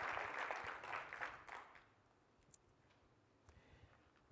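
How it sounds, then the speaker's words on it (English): Audience at a school district address applauds school nutrition workers and bus drivers, a short burst of clapping that dies away after about two seconds, leaving a quiet room with a few faint knocks. "So if you'll join me in giving them a big round of applause."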